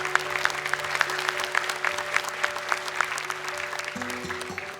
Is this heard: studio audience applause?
yes